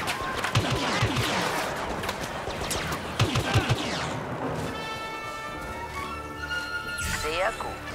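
Rapid blaster gunfire crackles through a Star Wars Battlefront battle on Endor, with dense overlapping shots and clattering bursts throughout while someone talks over the action.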